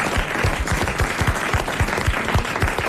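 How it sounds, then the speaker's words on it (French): Studio audience applauding on a 1994 French television talk show, a steady dense clatter of many hands clapping together, loud and close, with no voices over it for the whole stretch. "Il s'applaudit lui-même."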